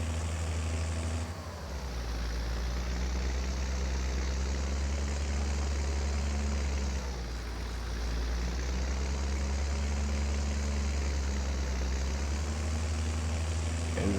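A tractor engine idles in a farming video game, a steady low drone that dips briefly twice and otherwise holds an even, continuous hum, with no talking.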